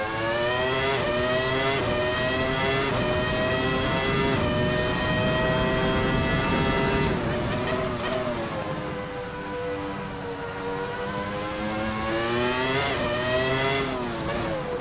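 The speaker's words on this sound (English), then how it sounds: "Just letting you listen to the sounds of the engine." The Ferrari F310b Formula One car's engine in the VRC racing game wails continuously, its pitch climbing and falling through gear changes in a loud, shrill howl with no talking.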